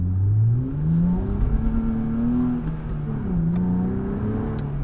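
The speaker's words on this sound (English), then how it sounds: "listen to this exhaust, y'all." The modified exhaust of a Nissan Z drones low and rumbling as the engine revs up and down in waves, heard close and continuous with slight pops and ticks.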